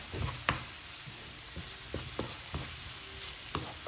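Salted pizza topping stirred in a frying pan, with a steady sizzle under several distinct scraping and tapping strokes of a utensil against the pan, close and moderately loud.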